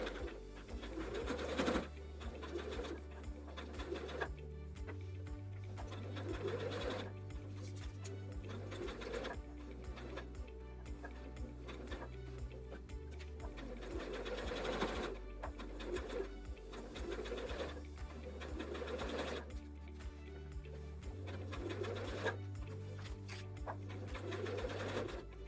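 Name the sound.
sewing machine stitching an oven mitt edge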